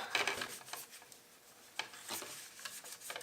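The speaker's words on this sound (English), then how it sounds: "we're going to take our handy dandy sock and a little bit of rubbing alcohol, and we're just going to rub off some of that grime" A sock dampened with rubbing alcohol rubs grime off an HP 8753E vector network analyzer in short, close, scratchy strokes, with a brief pause midway.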